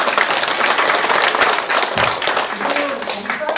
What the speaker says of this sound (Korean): 자치위원님들한테 박수 한번 부탁드리겠습니다